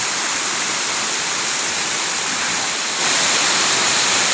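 Le Tong Ku waterfall in Tak province, Thailand, roaring as a steady, loud wash of falling water close by, continuous hiss with no talking.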